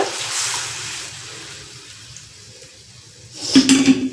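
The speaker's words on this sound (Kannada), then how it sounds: "ಇದಕ್ಕೆ ಎಷ್ಟು ಬೇಕಷ್ಟು ನೀರು ಹಾಕೊಂಡ್ಬಿಡ್ತೀವಿ." Water is poured into a cooking pot with boiled potatoes and lentils in a home kitchen, a soft splashing at the start that fades, then a louder gush near the end.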